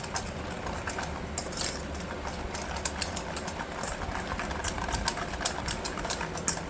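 An electric mixer whirs steadily, beating eggs with sugar into a cake batter at home, a continuous close buzzing motor drone with a scratchy high rattle from the beaters running unbroken throughout.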